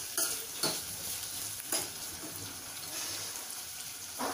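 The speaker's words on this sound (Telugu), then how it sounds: "వీటన్నిటిని మనం నూనెలో బాగా వేయించుకోవాలి." Spices frying in hot oil for a mild Telugu sambar (pappu chaaru): a steady close sizzle with a few scraping stirs of the pan, and no voices.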